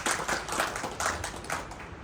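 Audience applause at a monthly meeting: a steady wash of clapping from a roomful of people, moderately loud throughout, with a few slightly stronger bursts and no talking over it.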